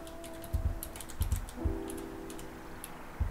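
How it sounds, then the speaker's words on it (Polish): A password goes in on a computer keyboard as soft, close key clicks in short irregular bursts, with a faint low hum beneath and no voices. "Następnie wpisujemy hasło."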